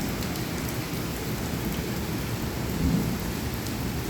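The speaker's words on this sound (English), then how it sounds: "this thunder is hurting my ears" Heavy rain pours steadily in a thunderstorm, likely with hail, while a deep rolling thunder rumble swells briefly near the end over the constant downpour.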